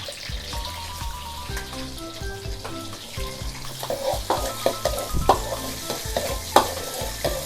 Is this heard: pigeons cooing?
no